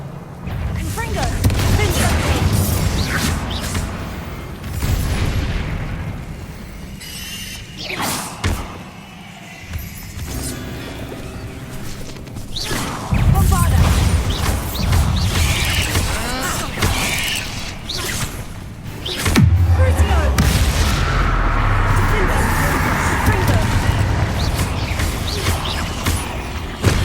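Blasting fire-spell explosions from Hogwarts Legacy, cast against giant spiders: repeated loud booms and thuds come in several bursts alongside crackling, mechanical game sound effects, with a voice speaking at times.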